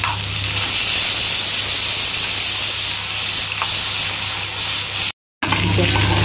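Brinjal pieces frying in a pan give a loud, continuous sizzling hiss with a low hum beneath, broken by a brief silent gap near the end.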